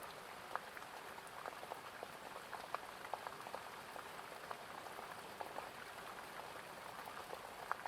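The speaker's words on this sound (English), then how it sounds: "hearing the sound of the rain on the windows of the cabin" Rain falls on a cabin as a soft, steady patter of scattered drops striking windows and surfaces, faint and continuous with no talking.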